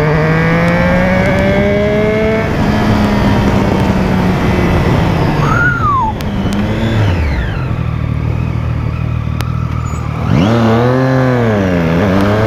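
Loud engine noise with several vehicles revving past, pitch sweeping up and down as they approach and pass; a Honda CB300 motorcycle whines by near the end, in Curitiba, Brazil.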